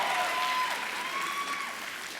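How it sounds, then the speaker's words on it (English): Audience clapping for former Lenape television students at a 2017 LDTV awards evening, a short burst of steady applause from a crowd with faint whistling over it, tapering slightly at the end. "You can clap."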